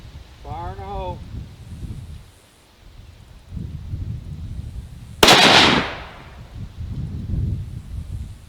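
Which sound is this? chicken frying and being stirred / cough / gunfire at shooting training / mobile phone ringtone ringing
gunfire at shooting training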